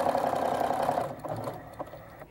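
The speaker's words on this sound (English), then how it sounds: "what I'm going to do is lift my foot, pull and adjust it so that I can satin stitch" A sewing machine runs a satin stitch along a fabric edge in a sewing room, a fast steady whirring stitch for about a second that then stops, leaving a few faint clicks and handling sounds.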